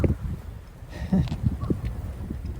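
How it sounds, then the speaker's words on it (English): Cold, gusty wind buffets the microphone in low rumbling bursts on a remote Japanese road on a sunny winter day, with faint rustling and soft knocks underneath. "it's a cold wind"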